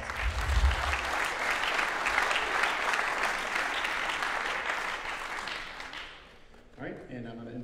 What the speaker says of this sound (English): I'm gonna give all you a round of applause.